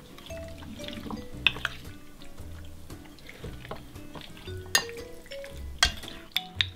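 Raw beef being stirred and mixed by hand with marinade for Chinese beef chow mein, giving soft wet squelching and clicking sounds in uneven bursts, close and fairly quiet, with no talking.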